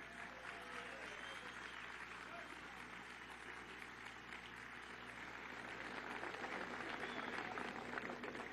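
Crowd applause for construction workers at a televised government event, a dense, continuous roar of distant clapping that swells slightly toward the end, faint and even throughout.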